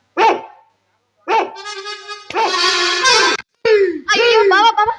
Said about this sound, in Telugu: పాడు కుక్క ఇంట్లోకే వచ్చేసింది.